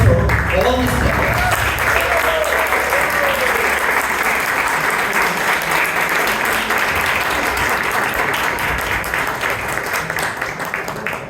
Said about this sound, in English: And now a huge round of applause for all the speakers.